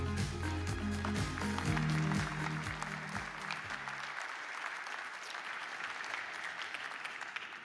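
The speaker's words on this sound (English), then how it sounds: "A round of applause for Matt Pines." Conference audience applauding a speaker, Matt Pines, with loud sustained clapping and crowd noise over fading stage music, the clapping thinning out toward the end.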